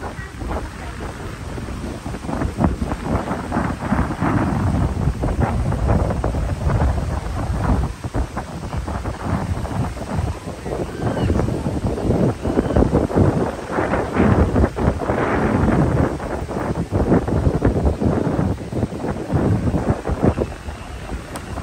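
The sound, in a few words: strong wind on White Beach, Boracay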